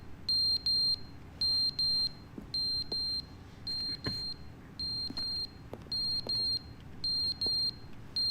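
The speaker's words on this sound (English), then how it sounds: "Anybody want to replace the batteries of that smoke alarm right there?" A smoke alarm chirps in The Stanley Parable, with rapid high-pitched beeps in regular bursts of two or three repeating steadily over a quiet low hum and occasional faint ticks.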